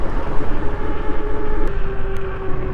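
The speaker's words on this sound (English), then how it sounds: "Driving with just the throttle." The TST R002 electric bike's motor runs on throttle alone, a steady loud whine with a constant tone over heavy rushing wind and road noise.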